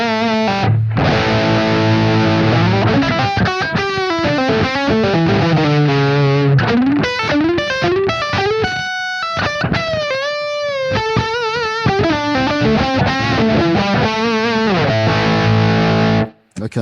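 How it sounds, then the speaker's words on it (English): Overdriven electric guitar through a Blackstar Beam Mini amp with Klon-style overdrive, playing chords and melodic lines, warm and moderately distorted, loud and steady with a brief pause midway, no voices. "Let's have a look at an overdrive. I think that's like a clon style overdrive."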